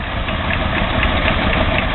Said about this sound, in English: We have a nice little Kubota here, no owner, but very nice little small tractor